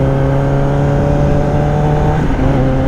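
A 2021 Kawasaki ZX10R sport motorcycle engine revs loud and close, a steady droning note that climbs in pitch before shifting near the end of the run.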